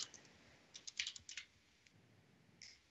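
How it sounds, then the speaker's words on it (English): Quiet clicks from a computer keyboard come in a short run of keystrokes, a brief pause, then one or two final taps, with no talking. "I'm just going to type in"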